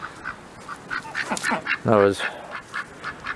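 A duck gives a loud, raspy quack near the middle, with softer calls scattered around it, while a person speaks briefly.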